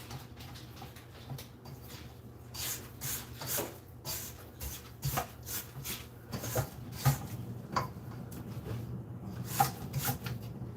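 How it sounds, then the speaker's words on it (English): A spatula scrapes around the mixing bowl of a stand mixer in a series of quiet, irregular rasping strokes, close and faint, with soft kitchen clatter between them. "So we'll give this a scrape."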